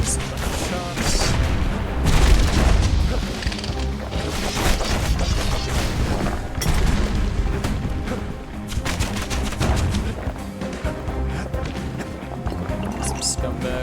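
Gunfire in a video game, a dense run of sharp shots, crashes and booms layered over game music and talk throughout.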